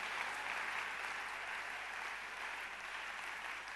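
A church congregation claps steadily during a worship service, a dense, even wash of many hands that holds at a constant level throughout with no pauses.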